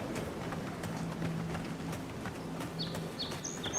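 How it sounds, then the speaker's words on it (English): Soft, wet footsteps land in an irregular walking rhythm in the video game Avowed, fairly quiet over a low ambient bed, with brief bird chirps near the end. "My footsteps sounded very soggy just then."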